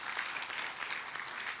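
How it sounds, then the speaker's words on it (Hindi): Audience applause fills a network marketing training seminar hall: dense, steady clapping from a crowd throughout, fairly even in loudness with no pauses. "जोरदार तालियां हो जाए इनके लिए भी,"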